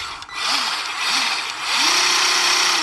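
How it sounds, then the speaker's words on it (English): A Milwaukee M12 palm nailer drives a nail, its internal flywheel and impact hammer making a loud, continuous rapid buzzing rattle that briefly dips and then surges steadily again. "the little flywheel and impact hammer inside will drive this nail in"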